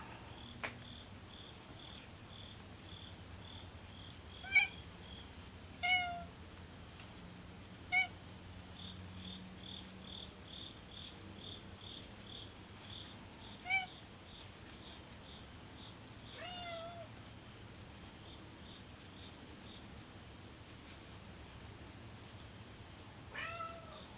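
A pet cat meows several times during a crochet session indoors, short separate meows spread across the stretch over a steady high-pitched background hum.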